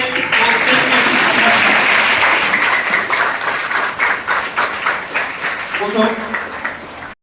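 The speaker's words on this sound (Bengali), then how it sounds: "সবাই একটু উঠে দাঁড়াও, একটু হাততালি দিয়ে" Students standing to clap for police officers at a road safety week event, a loud sustained burst of applause from a large crowd, dense and continuous throughout before tapering slightly near the end.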